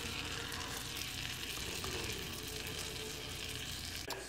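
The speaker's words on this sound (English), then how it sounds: "I'm going to put the seam side down and let it get brown and crispy" A chimichanga fries seam side down in a hot pan, giving a steady, loud, continuous sizzle with crackling throughout and no talking.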